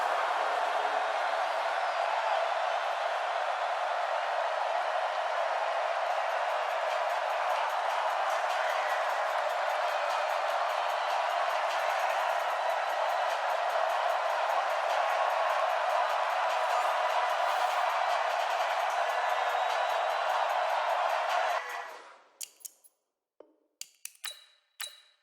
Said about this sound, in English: Crowd is fired up, we're fired up, and we're underway in the 2020 Pro Bowl